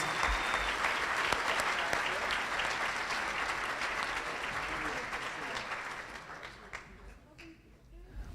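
Audience applause for the co-chairs at a Making Strides Against Breast Cancer kickoff reception in Sarasota-Manatee, a dense, steady wash of many hands clapping close by that fades slightly toward the end.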